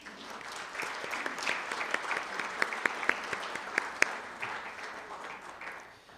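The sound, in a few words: audience applause at hall of fame ceremony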